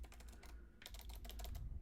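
Quick keystrokes on a computer keyboard as a short password is typed, a rapid, fairly close burst of clicks with a brief gap in the middle, under a quiet low hum.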